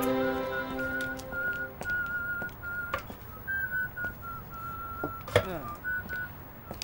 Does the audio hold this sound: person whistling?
yes